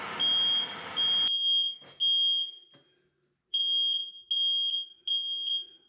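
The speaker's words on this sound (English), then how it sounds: "decided to set the smoke alarms off" A smoke alarm beeps in a house where plumbing work is going on. One long piercing tone is followed by a series of short, evenly spaced high beeps, loud and close, with a brief pause partway through.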